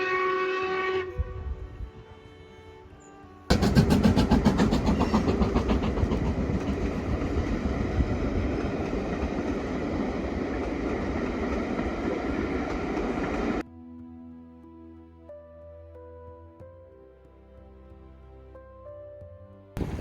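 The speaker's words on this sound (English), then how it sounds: "if you want to see the viaduct when the train goes by" A train rumbles and clatters across a viaduct for several seconds, loud and sustained, with music playing before it arrives and after it fades.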